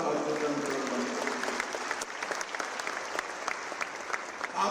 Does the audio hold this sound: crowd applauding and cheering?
yes